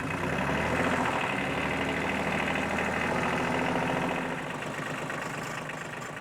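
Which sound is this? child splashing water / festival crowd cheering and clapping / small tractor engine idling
small tractor engine idling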